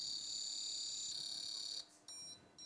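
A Prodatec beam alignment device gives a sustained shrill electronic tone that then breaks into short separate beeps near the end, close and unaccompanied by speech.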